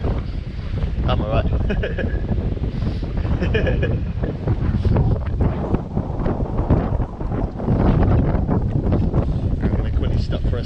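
Strong wind roars and buffets the microphone while riding a Kaabo Mantis 8 Pro Plus electric scooter on a long ride, a constant loud rush with a rider talking briefly over it.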